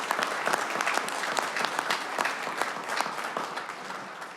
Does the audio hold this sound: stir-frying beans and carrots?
no